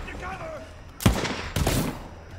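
Bursts of SMG gunfire in the shooter video game Borderlands 3, two loud sharp volleys about half a second apart over a low game background, with a faint voice early on.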